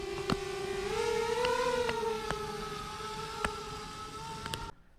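A steady high-pitched electric whine of small propellers rises as a DJI Mavic Air drone lifts off in sport mode, holding its tone with faint clicks, then cuts off abruptly.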